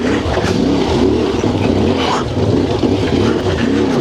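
Royal Enfield Himalayan 450 motorcycle climbing a UK green lane, its engine loud and close, pulling steadily with wavering revs and a rough rumble throughout, no voices.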